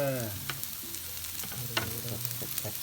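Mackerel sizzling in hot oil in a pan, with a steady close frying hiss and a few sharp utensil clicks and stirring knocks throughout; some low harmonic tones sit beneath, but no clear talk.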